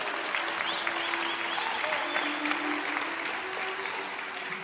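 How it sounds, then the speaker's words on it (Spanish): A church congregation applauds during a Spanish-language sermon, a broad sustained wash of clapping from a large crowd at moderate volume, with a few faint voices mixed in. "Den un aplauso al Señor Jesucristo."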